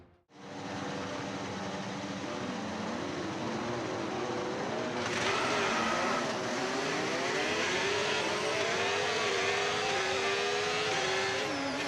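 F1 race cars roll through a formation lap in a racing video game, with a steady engine drone that builds to a brighter rising whine and stays continuous and up close.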